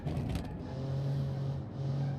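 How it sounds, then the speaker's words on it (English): A car's exhaust in the racing game Automation drones steadily with a low engine hum and tonal whine, a constant near rumble with slight swells in loudness. "Whoa, listen to that exhaust."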